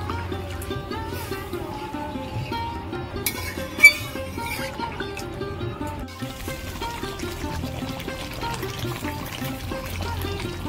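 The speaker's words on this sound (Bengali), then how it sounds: "এবার আমি জল দেব।" Water pours steadily into a cooking pot of potatoes fried in spiced gravy for several seconds, a gurgling, rising fill with a single sharp clink partway through.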